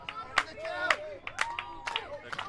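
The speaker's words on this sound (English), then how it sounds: "The crowd into it." A wrestling arena crowd claps and cheers in scattered bursts, while a commentator's voice talks over the noise.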